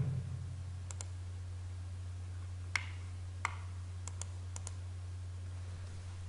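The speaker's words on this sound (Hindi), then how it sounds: "और मैं यहाँ से क्लिक करता हूँ।" Sparse, crisp computer mouse clicks in AutoCAD Civil 3D 2015, single and double taps scattered over a steady low electrical hum, close and quiet with no talking.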